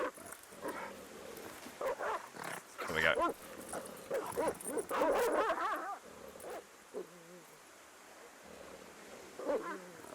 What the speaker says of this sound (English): I'm just going to switch my dogs down a little bit. They're a little bit loud.